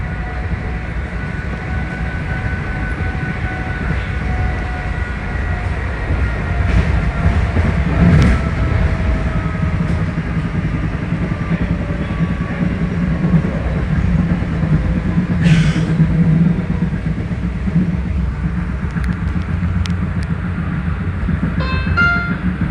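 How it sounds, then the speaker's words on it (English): A PATCO train bucking along near Woodcrest Station throws a few sharp electrical arcing crackles and pops over a loud, steady rolling rumble, with a couple of bursts standing out clearly. "I can hear a lot of arcing out there"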